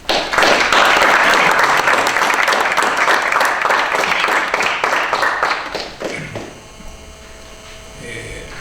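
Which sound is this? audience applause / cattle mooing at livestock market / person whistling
audience applause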